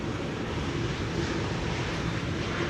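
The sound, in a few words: KLM Boeing 787-9 aircraft at Amsterdam Schiphol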